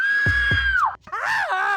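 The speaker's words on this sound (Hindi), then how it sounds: "अब जरा चिल्लाइए," A woman lets out two loud, shrill, sustained screams on command, the first long and falling off, the second wavering, close and alone.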